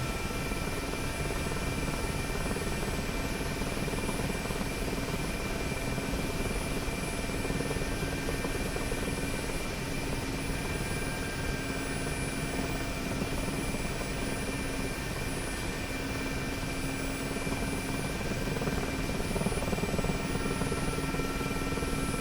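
An Mi-8MTV2 helicopter in the DCS flight simulator drones with a steady, loud rotor and engine hum that stays constant and unbroken throughout.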